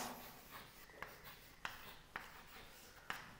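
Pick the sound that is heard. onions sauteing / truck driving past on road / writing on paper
writing on paper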